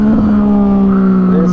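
A Yamaha FZ09 motorcycle engine in first gear, a loud close steady drone with a slight pitch rise toward the end.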